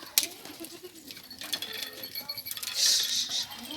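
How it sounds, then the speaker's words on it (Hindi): Goats bleat on a farm, including crossbred stock, in a few short calls over a busy outdoor background with people talking nearby. "इनमें बकरे हैं, क्रॉस में, अबलग में"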